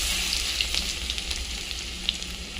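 Chopped garlic sizzles steadily in hot oil in a kadai, with cumin, dried red chilli and asafoetida already tempered; a continuous close, bright crackle with small pops and occasional stirring clicks, no voices.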